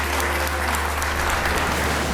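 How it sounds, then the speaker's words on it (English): Audience applauding at a school event, a dense, steady wash of clapping from a crowd filling the room without a break. "Give him a round of applause."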